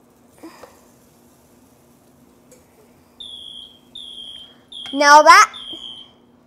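A waffle maker signals it is ready with a series of short electronic beeps: three clean tones, then a quieter one, under a voice and a brief word spoken nearby.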